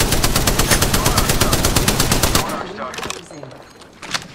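Rapid automatic gunfire in the video game Apex Legends, a loud sustained burst of evenly spaced shots that cuts off abruptly, followed by a few scattered fainter shots.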